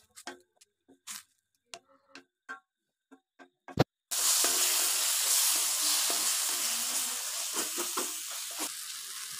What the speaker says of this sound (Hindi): हम टमाटर प्यूरी को 5 मिनट के लिए अच्छे से पकाएंगे।